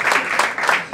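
A brief burst of audience applause during a religious lecture, loud and close, dense clapping with a few accented pulses lasting under a second.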